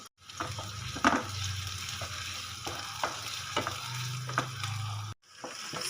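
Chopped onion sizzling in hot oil for a potato and bathua sabzi, a steady crackling fry with occasional scrapes and stirs of a utensil against the pan, close and alone with no talk.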